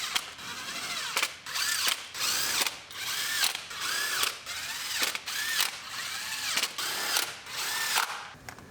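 A ratchet or power driver tightens the valve cover bolts on a 2019 Ford Explorer engine, with about a dozen short whirring bursts in a steady rhythm, each separated by a brief pause, close and moderately loud.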